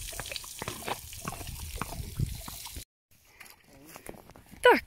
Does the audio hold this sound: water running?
yes